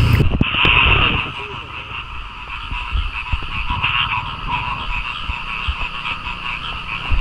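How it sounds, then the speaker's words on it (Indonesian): Frogs croak steadily in a dense chorus in the morning on a mountain trail, a continuous pulsing drone with a brief louder burst near the start, nearby and fairly loud. "Masih ada suara kodok guys."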